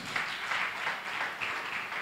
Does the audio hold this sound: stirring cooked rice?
no